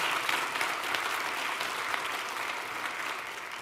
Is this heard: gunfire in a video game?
no